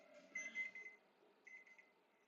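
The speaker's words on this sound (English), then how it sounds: "You wonder what that alarm is that's the oven." An oven timer alarm beeps faintly in a quiet room, sounding as two short bursts of high electronic tones with a gap between them.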